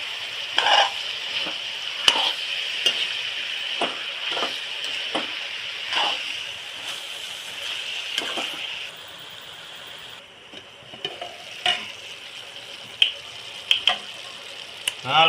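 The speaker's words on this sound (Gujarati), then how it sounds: "હવે થોડીક હળદર નાખી. અને હલાવી નાખી." A spoon stirring turmeric into bottle gourd curry in a pan, with a steady sizzle and frying hiss under repeated scraping strokes, close and fairly loud.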